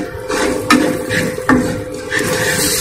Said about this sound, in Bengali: গুঁড়ো, হলুদ আর জিরে গুঁড়ো দিয়ে দিচ্ছি। একটু নাড়াচাড়া করে নেব।